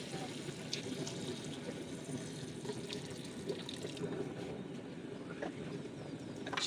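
About a litre of water pours into a pot of degi aloo gosht, a soft continuous splashing trickle that runs steadily at moderate volume with faint kitchen background.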